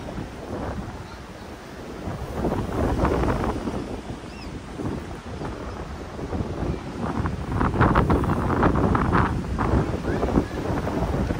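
Strong spring wind in New Zealand buffets the microphone continuously in loud, rumbling gusts, with waves or surf washing in the background.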